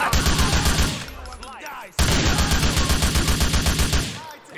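Rapid automatic gunfire bursts from the video game Grand Theft Auto IV, dense and loud with rattling repeated shots, a brief pause near the middle, then another long volley.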